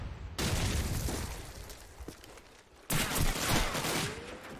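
Bursts of shotgun fire in a Call of Duty 4 tournament match, a dense volley at the start and another loud burst near the end, with a lull of quieter game noise between.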